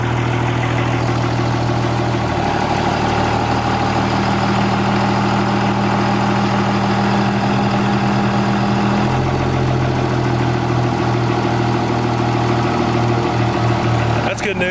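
A third-generation vehicle with transmission trouble idles in drive, a loud, steady, close engine drone whose low hum shifts pitch slightly partway through, running continuously without pause.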